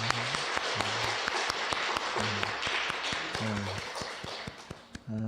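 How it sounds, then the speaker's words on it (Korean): A church congregation at a Sunday Easter service claps together, with sharp, fairly regular claps running throughout and a voice heard in the gaps. "하나님께 영광의 박수를 올려드리겠습니다."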